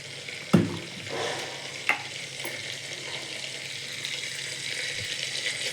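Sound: sesame oil poured into clay pot on stove

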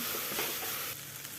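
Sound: stirring soaked rice and masala in a hot pan

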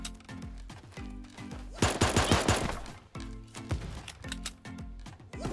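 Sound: gunfire in the video game Super Animal Royale

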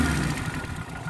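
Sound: 1982 Suzuki Jimny 4x4 engine idling

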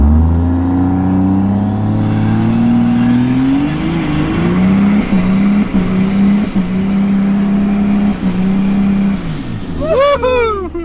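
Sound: 650 hp LB7 Duramax diesel truck accelerating with turbo whistle

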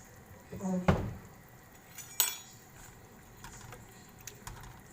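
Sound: stirring food in a pan while adding salt

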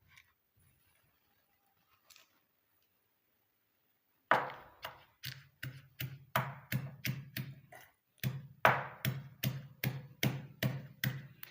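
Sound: pounding omavalli leaves in a mortar

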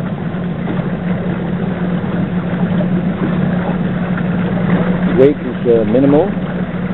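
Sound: electric motor driving a modular kayak on a lake

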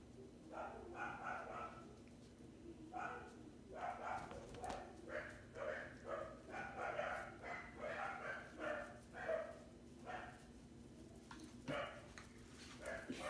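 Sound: dog Comet

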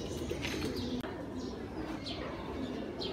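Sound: pigeons cooing

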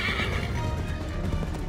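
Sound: horse neighing and hooves in video game Assassin's Creed 3

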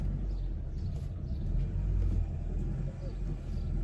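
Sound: car manoeuvring into a narrow gap at home

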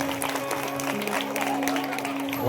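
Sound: audience applause

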